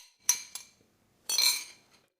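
Fennel pieces and olives drop into a large container, giving a few sharp clinks followed by a short rattling clatter, close and alone.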